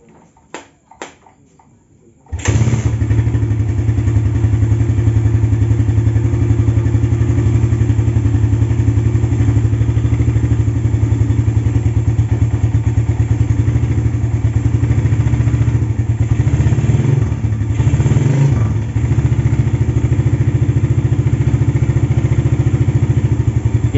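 After a few faint clicks, a Suzuki Satria FU fitted with an oversize Tiger piston fires up and idles loudly and steadily for about twenty seconds, with a couple of brief blips in the engine note near the end.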